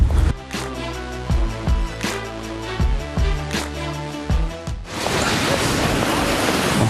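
Rain falls on an umbrella in wet weather, a dense, even hiss of drops that takes over the last couple of seconds after a stretch of rhythmic, music-like sound.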